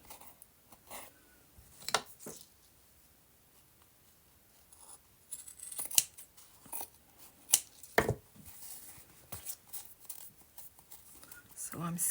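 Scissors snipping off loose linen threads in a paper-craft journal, several short crisp cuts and rustles scattered across a quiet room, with a person talking between them.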